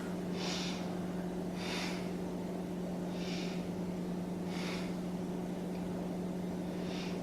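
Slow, deep breaths during a beginner yoga pose, five soft airy exhales spaced evenly over a constant low hum.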